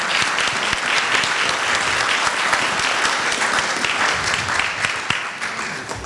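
A meeting audience on Sanibel Island claps loudly for hurricane preparedness staff, dense, even applause from a large crowd sustained for about six seconds with no talk over it.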